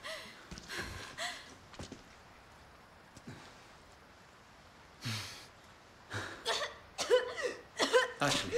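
Character coughing in Resident Evil 4, a string of short harsh coughs and breathy gasps that grow denser and louder toward the end over a quiet game backdrop.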